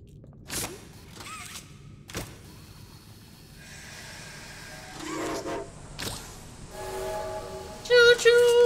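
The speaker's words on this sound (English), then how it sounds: "Choo-choo! I love trains!" Train mechanisms in the Poppy Playtime Chapter 2 video game clank and hiss, with sharp metallic knocks, rising mechanical whirs and a whistle-like tone near the end, moderately loud with no talk.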